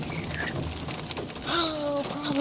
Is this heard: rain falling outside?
yes